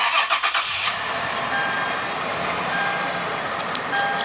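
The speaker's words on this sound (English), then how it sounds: "So now I'm going to turn the car on." Toyota 4Runner engine starting: a short cranking burst at the start, then a steady idle with faint electronic chimes, no voices.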